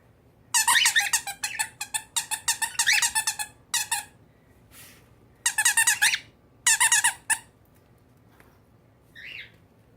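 Squeaky giraffe toys squeezed in quick bursts, sharp bird-like chirping squeaks in rapid clusters separated by short pauses, close and fairly loud with no talk.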